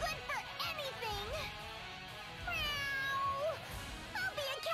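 A cat in the video game Bravely Second meows several times, each a quiet, rising and falling call, spaced across the moment with short gaps between them.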